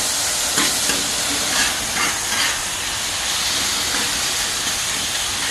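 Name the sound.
beef heart sizzling on a Blackstone griddle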